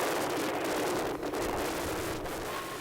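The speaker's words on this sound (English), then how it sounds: "Sounds windy." Steady wind buffets the microphone at a sailing regatta finals, a constant close rushing roar with slight dips, no voices.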